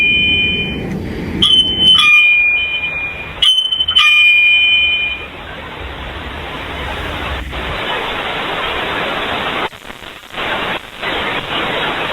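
A doorbell going off in a kids' upstairs room, sounding as sharp electronic tones repeating in short bursts early on, then giving way to a loud, steady static-like hiss with a few abrupt dropouts.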